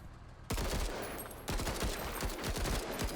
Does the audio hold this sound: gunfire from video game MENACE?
yes